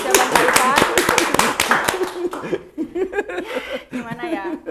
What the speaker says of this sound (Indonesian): Oke, kita beri tepuk tangan lagi jawaban Pak Ivan.